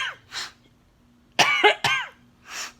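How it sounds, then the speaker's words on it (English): A woman has a pleuritic cough: two quick, harsh coughs close together in the middle, with soft breaths before and after, recorded up close in a quiet room. "a little bit of a cough, that pleuritic cough"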